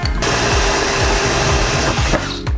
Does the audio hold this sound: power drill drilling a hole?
yes